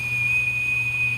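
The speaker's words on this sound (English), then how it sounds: "he blows into the whistle" A whistle is blown in one steady, unbroken high tone lasting just over a second, loud and alone over a low background hum.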